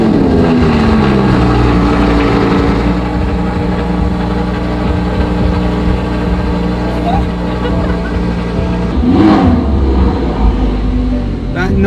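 An Audi R8 sports car engine rumbles deep and loud, revving steadily while driving, with a sharper surge of revs near the end.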